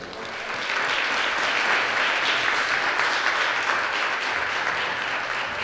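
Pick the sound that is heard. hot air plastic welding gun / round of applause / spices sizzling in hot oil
round of applause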